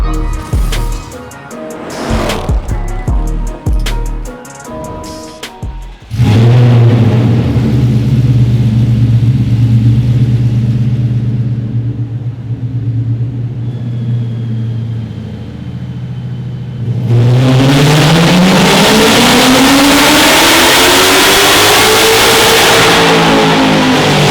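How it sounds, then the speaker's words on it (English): A Steeda 2024 Silver Bullet Mustang strapped to a dyno idles with a lumpy rumble, then holds a loud steady drone before revving hard and climbing in a long sweep, close and powerful with no voices. "We got the Steeda 2024 Silver Bullet strapped down the dyno."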